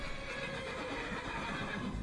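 A horse in the video game Skyrim neighs amid a dense, steady wash of in-game ambience, with the whinny fairly loud and running through the short stretch without pause.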